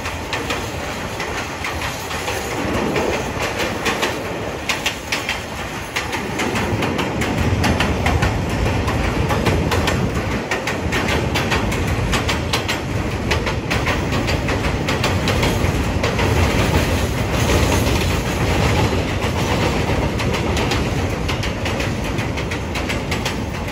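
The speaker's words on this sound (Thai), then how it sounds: "เรามาข้ามสะพานเรือจอมเกล้าพร้อมขบวนเจ็ดสองสองสักหน่อยฮะ" A freight train rumbles and clatters across a bridge, close and loud, in a continuous roar that holds steady from start to finish.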